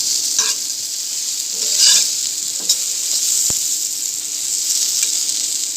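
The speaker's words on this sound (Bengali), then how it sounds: "এখানে আমি বেগুনগুলো অনেক ছোটো ছোটো করে কাটে নিচ্ছি হালকা একটু তেল দিয়ে ভেজে নিচ্ছি" Small cut eggplant pieces fry in a little oil with a steady, close sizzle, broken by a few light stirring scrapes and clicks.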